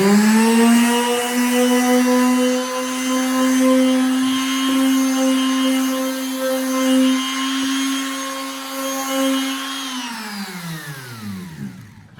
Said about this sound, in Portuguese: Mas sim, a lixinha é um acabamentinho final